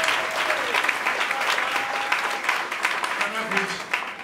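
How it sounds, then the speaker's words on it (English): A church congregation claps together in a sustained, even burst of applause, many hands close and fairly loud, with a few faint voices underneath. "And give that name a better clap."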